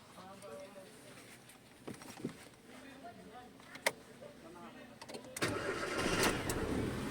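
A 2017 Nissan Almera that misfires and has low power cranks and starts, the engine catching and settling into a steady idle after a few scattered clicks and knocks.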